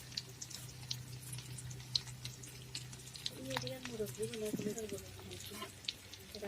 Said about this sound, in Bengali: এখন হলুদ গুঁড়ো দিয়ে ডিম ভাজি করে নেব।